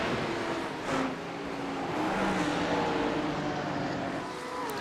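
Lamborghini GT3 race car engine in a racing video game, a steady loud drone with shifting engine tones, the car's revs rising and falling continuously throughout with no pauses or speech.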